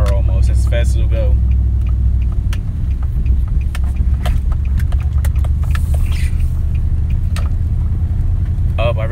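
A Nissan Titan with clogged catalytic converters labors along at low speed, its engine a steady, strained low rumble heard from inside the cab, with someone talking over it.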